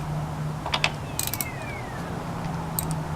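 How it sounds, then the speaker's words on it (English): 10mm socket ratchet on an ignition coil bolt of a 4-cylinder Jeep Cherokee KL, a few quick ratcheting clicks and small metallic taps close by over a low steady hum, with no talking. "You need a 10mm socket for that"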